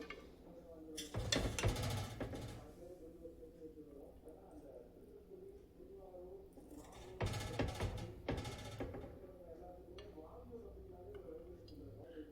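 A spoon scrapes and clinks against a pot while cooked plain birinji (biryani-style) rice is served out, in two short bursts of rough scraping with quieter handling between them and talk around them.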